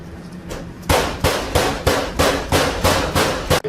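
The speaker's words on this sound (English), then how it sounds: "Gonna be the star anise. Star anise, and we're gonna beat it with a hammer." A hammer pounding star anise for absinthe botanicals, about nine sharp, loud, evenly spaced blows close by, each with a hard knock and brief ring, with no talking.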